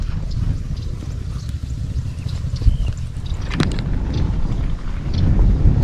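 Wind gusts over the microphone while fishing outdoors, a loud continuous low rumble that swells toward the end.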